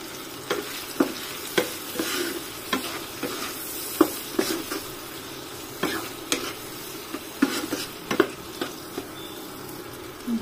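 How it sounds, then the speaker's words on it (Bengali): Potatoes and tomatoes seasoned with turmeric and salt sizzle steadily in a pan, with a spatula stirring and scraping at frequent, irregular intervals close by. "এখন ভালোভাবে আলু আর টমেটো ভেজে নেব।"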